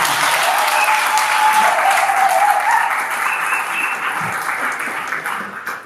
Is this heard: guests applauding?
yes